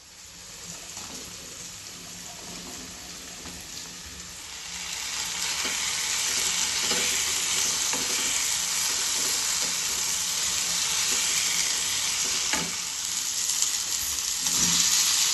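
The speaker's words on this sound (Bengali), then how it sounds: "তো তারপর একটু ভালো করে নাড়াচাড়া করে নিচ্ছি।" Spices with brown sugar and a spoon of Kashmiri chili powder fry in a pan, a steady broadband sizzle that grows louder partway through, with occasional soft scrapes of stirring.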